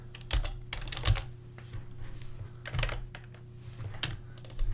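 Fast typing on a computer keyboard, close and clear: bursts of clicking keys with a few heavier strokes, likely the space or enter key, running continuously without any voice.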